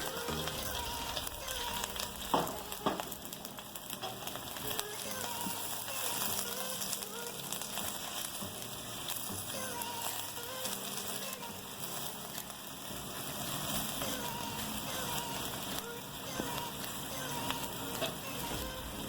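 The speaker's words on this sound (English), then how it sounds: "To to my hot oil. I will add half of my onion." Onions frying in hot oil for shrimp biryani, a continuous crackling sizzle that stays steady and fairly close, with a voice talking over it at times.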